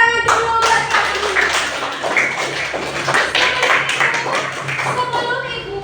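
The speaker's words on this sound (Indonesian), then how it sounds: "Tepuk tangan dulu buat kami." A classroom full of people clapping steadily during a teacher's lesson assessment in Indonesia, a dense patter of hands that holds for several seconds with some voices mixed in.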